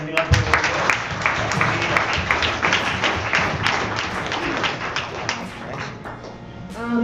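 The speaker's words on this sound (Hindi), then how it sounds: "प्रेज द लॉर्ड, ताली बजा के धन्यवाद।" A church congregation during a testimony gathering claps hands in thanks, sharp individual claps and loose rhythmic patters close by, with some voices mixed in beneath the clapping.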